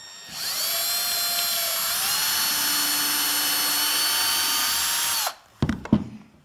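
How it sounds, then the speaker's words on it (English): A power drill pre-drills into plywood, whining steadily and loudly for about five seconds before spinning down, followed by a few clunks and rattles. "So if you'll just go ahead and take out a little material with a pre-drill, that will help."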